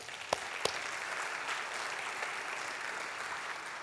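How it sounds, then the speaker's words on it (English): An audience applauds steadily for several seconds, a dense wash of clapping with a couple of sharper claps standing out near the start. "one more round of applause for that team."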